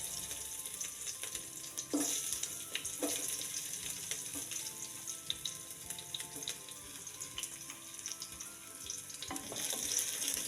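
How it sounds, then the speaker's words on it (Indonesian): Shallots and garlic going into hot oil and sautéing for a garlic-shallot base, a steady close sizzle with scattered sharp crackles and stirring clicks, no talking. "Setelah panas, masukkan bawang merah, bawang putih"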